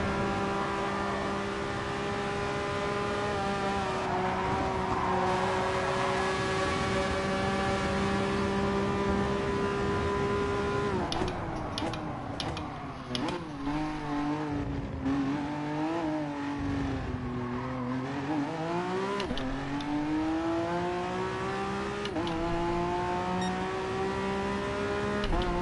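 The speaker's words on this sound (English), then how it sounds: "I'm excited to hear what this car sounds like as I drive by. It sounds amazing." In Gran Turismo Sport, a race car revs hard and sweeps past during an online race, its engine note climbing and dropping with gear shifts while other cars are heard in a continuous roar.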